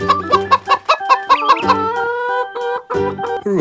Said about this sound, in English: Here we have some chicken